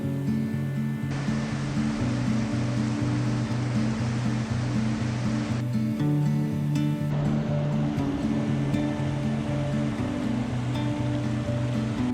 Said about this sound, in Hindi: पर पहले काली गंडकी नदी को देख लेते हैं